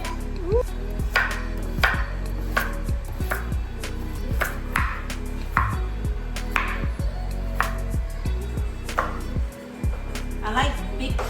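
A knife chops carrots into big chunks for caldo de res, striking a cutting board in a series of sharp, irregularly spaced knocks, up close and fairly loud, with a person talking between some of the cuts.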